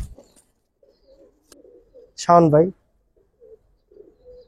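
Old Dhaka Giribaz pigeons, silver birds of an old breed, coo faintly in short, scattered bursts on both sides of a brief spoken phrase from a nearby man.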